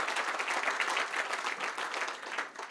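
Audience applause at a corporate announcement event for a global innovation center at the Philadelphia Navy Yard, dense and even clapping that holds steady before easing slightly at the end.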